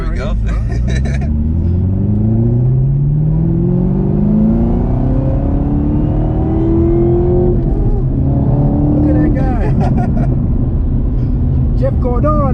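A ZL1 Camaro downshifts and pulls hard, engine pitch climbing in rising sweeps over several seconds, heard loud from inside the car with people talking over it.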